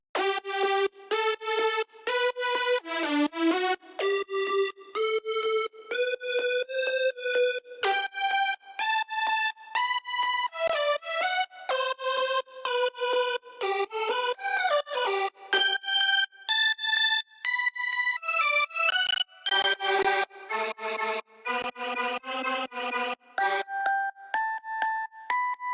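Individual Vital synth leads for a track play one after another, each a bright melodic phrase of short repeated notes, shifting in timbre as each new lead takes over, fairly quiet and with no talking.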